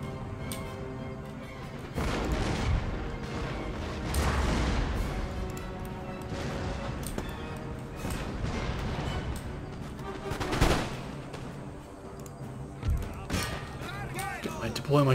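Heavy artillery fire in the video game Empire: Total War, a battle in Mexico over Texas: repeated booming cannon blasts and crackling volleys, dense and loud, with a voice talking over the barrage.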